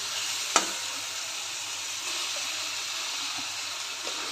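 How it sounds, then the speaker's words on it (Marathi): Roasted cluster beans tipped into sizzling onion and tomato in a pan, a sharp clatter at the start, then a steady loud sizzle with a few faint knocks of stirring. "आता यामध्ये गवारी घालते। भाजून घेतलेली गवारी घालते।"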